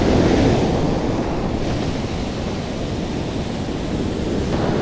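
Waves break and wash onto a beach in a loud, constant roar of surf, with wind buffeting the microphone and no voices.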